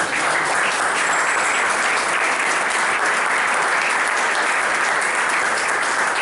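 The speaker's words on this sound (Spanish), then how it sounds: "Pueden aplaudir a Mónica Chazarres" An audience applauds after a presenter's talk, with thick, continuous clapping, loud and even from start to finish and no voices over it.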